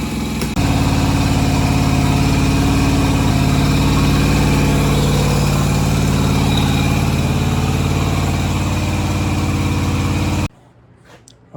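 A Yamaha Virago XV250 V-twin motorcycle idles loud and close while firing on only one cylinder, a steady rough drone that runs for about ten seconds and then cuts out abruptly.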